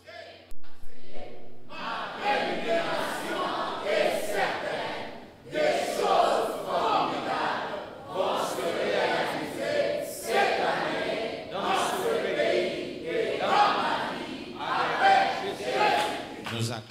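A church congregation acclaiming and cheering during a French-language service: a sustained crowd roar of many shouting voices, loud and continuous, swelling in waves with a brief dip midway.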